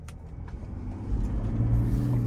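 A 2025 Chevy Tahoe RST Duramax turbo diesel on the road: a steady low engine drone with tyre and road noise that swells and grows louder in the second half as it picks up speed.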